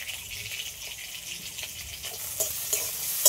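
Potatoes frying in a pan, a steady bright sizzle with occasional crackles and pops that grow a little louder toward the end, heard close up with no talking.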